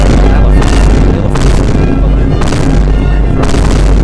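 A video game AOD-1 anti-air cannon modeled on a close-in weapon system fires in heavy, loud, continuous booming bursts, a dense rumbling roar that swells roughly every second with no pause.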